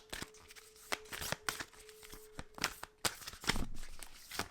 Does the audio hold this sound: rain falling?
no